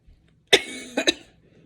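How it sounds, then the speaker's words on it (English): A single close cough followed a moment later by a quick double cough, sharp and clear against near silence. "Sorry, I got a cough."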